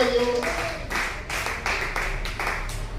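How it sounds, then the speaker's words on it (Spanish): A church congregation claps in rhythm at a Spanish-language worship service, a steady run of hand claps over a low hum, with a sung or spoken voice briefly at the start. "Aplauda el nombre de Jesús, gloria a Dios."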